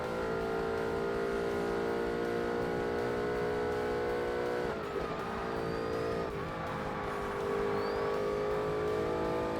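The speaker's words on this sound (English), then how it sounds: "I love the noise the turbo makes when it's coming back on boost." A race car in the Forza Motorsport video game drives at steady high speed, its engine droning loudly with brief dips where the turbo whooshes and spools back onto boost.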